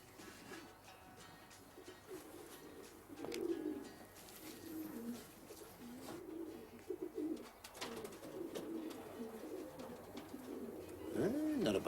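Racing pigeons cooing in a loft in Newcastle, a soft, steady stream of low throaty coos repeating throughout, fairly close, with faint chirps and background rustle.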